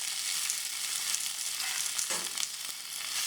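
Ivy gourd and curry leaves hit hot coconut oil with mustard seeds, producing a bright continuous sizzle with a few stirring knocks, close and fairly loud, no talking.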